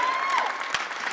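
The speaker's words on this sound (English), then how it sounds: "let's have a round of applause for the heavyweight champion of the world" Crowd applause at T-Mobile Arena in Las Vegas for the heavyweight boxing champion after a knockout, a brief dense burst of clapping and crowd noise with a faint tone running through it.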